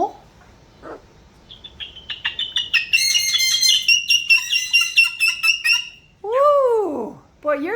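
Sunni, a pet bird, gives a rapid run of loud, close, piercing chirps and squawks, then two harsh drawn-out screeches, with a person's voice heard briefly at the start.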